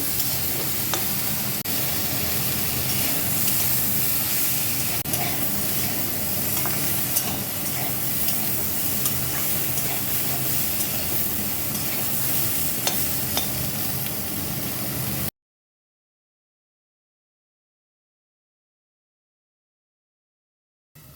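Fried onion, garlic and green chili are stirred in a pan while making a broccoli salad, giving a steady loud sizzle with scraping spoon strokes for about fifteen seconds before the sound abruptly cuts to silence.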